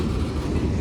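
A Union Pacific manifest freight train rolls past close by at Central Avenue, a loud continuous rumble and rattle of cars with no voices.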